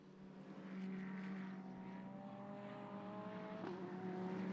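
GT race cars at the Suzuka 10 Hours sweeping through the chicane, a sustained engine drone with shifting tonal whine rising and falling in pitch, fairly distant and faint, no voices.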